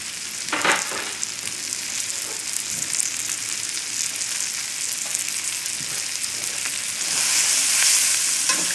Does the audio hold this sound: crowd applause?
no